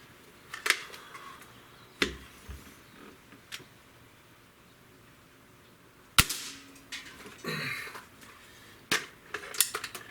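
A Beeman 2015S double barrel air rifle fires, each shot a sharp, close crack standing alone over quiet room tone, with a few softer clicks and handling noises in between.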